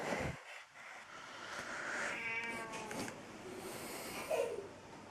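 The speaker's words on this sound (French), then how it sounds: "Pour vous montrer un peu le chat, ce que ça donne." A cat companion in the video game Monster Hunter Generations meows, one drawn-out call followed by a short higher mew, fairly faint against a steady game background.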